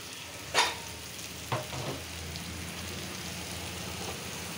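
Brains being added to sautéed spices in a pan, with two sharp sizzling bursts as they hit the hot oil, then a continuous soft frying hiss.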